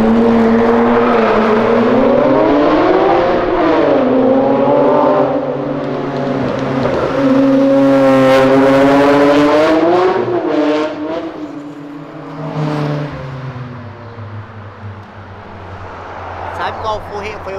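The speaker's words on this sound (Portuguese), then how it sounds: "Ele acabou de acelerar na frente da polícia." Car engine revving hard on a city avenue: a loud, rising and falling roar that climbs in pitch several times and then settles to a lower rumble, with people talking over it throughout.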